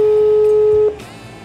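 A telephone line tone during an outgoing call: a single steady electronic tone holds for just under a second, then cuts off abruptly, leaving faint background hiss.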